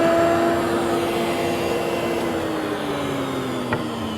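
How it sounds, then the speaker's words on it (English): A drum sander smoothing a wooden crest rail for a corner chair, a steady droning whine with a faintly falling pitch and a brief knock near the end, no talk. "then I'll clean it up with the drum sander"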